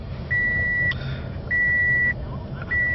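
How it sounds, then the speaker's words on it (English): A steady electronic chime beeps three times in long, evenly spaced tones inside a car, over a constant low road rumble. "seatbelt is beeping"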